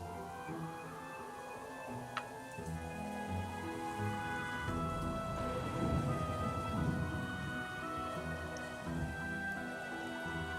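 Rain and rolling thunder in the video game Trails in the Sky the 3rd, a steady patter of rain under a low, swelling rumble of thunder, with sustained musical tones layered throughout.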